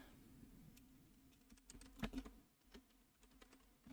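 Soft typing on a computer keyboard close to a microphone, scattered quiet key taps with one sharper clack in the middle, no talk.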